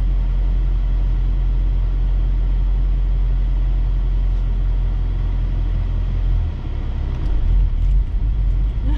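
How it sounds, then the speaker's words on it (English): A Shelby GT350 Track Pack with a manual gearbox pulls away in first gear, its engine a steady low rumble heard from inside the cabin, the drone shifting and swelling slightly as the car starts to move. "You kind of feel the car starting to move"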